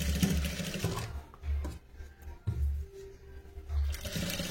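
A sewing machine stitches along the edge of blouse piping in short bursts of close, whirring motor noise, pausing between runs.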